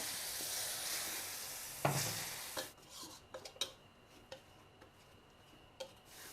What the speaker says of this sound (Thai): ตอนนี้ผัดพริกแกงนะคะ